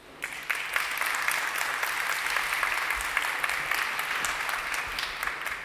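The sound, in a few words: audience applause after a talk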